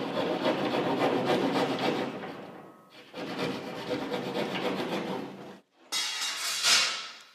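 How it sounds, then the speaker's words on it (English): Hand saw rasping through a gypsum drywall sheet in long continuous strokes, close and loud, with a short pause midway and a brief gap before a final brighter burst of cutting. "I'm just going to simply cut straight down till I get to my horizontal line."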